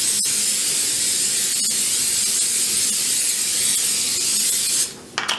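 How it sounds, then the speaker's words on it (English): A steady aerosol hiss of cooking spray onto a pan runs for several seconds, close and loud, then cuts off with a couple of faint clicks at the end. "spray it with cooking spray so it doesn't stick real bad"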